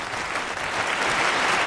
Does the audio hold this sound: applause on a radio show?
yes